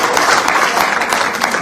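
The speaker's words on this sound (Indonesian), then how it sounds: "Tepuk tangan." A church congregation applauds after a sermon remark about marriage, steady broadband clapping from many hands filling the room for the whole moment without a break.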